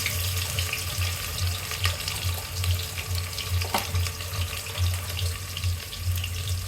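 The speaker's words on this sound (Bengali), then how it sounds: "যখন তেলটা গরম হয়ে আসবে তখন আমরা পেঁয়াজ কুচি দিয়ে দেব।" Chopped onions sizzle in hot mustard oil for haleem, a loud, steady frying hiss close by over a low pulsing hum, with no speech.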